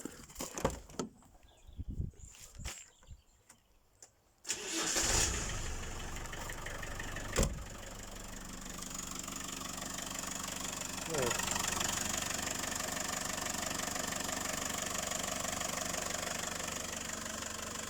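Some clattering and shuffling, then a classic Range Rover engine turns over and settles into a steady, rough, tractor-like idle that rumbles on at an even level.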